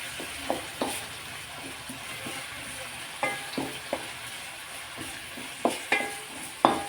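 Turmeric powder tempering in oil in a pan, a steady low sizzle with scattered stirring clicks and scrapes along the way, close and moderately quiet, with no one talking.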